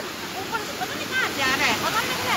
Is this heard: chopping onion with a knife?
no